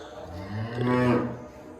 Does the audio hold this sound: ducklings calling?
no